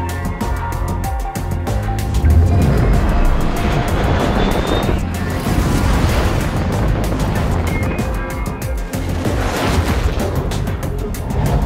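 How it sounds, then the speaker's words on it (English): The Valkyrie ship in Star Citizen roars with its four rotating VTOL thrusters, producing a loud, continuous, broad jet-like wash layered with cinematic music and effects. "Featuring four powerful rotating thrusters with VTOL capabilities, the Valkyrie is capable of landing with surgical precision to deploy assets."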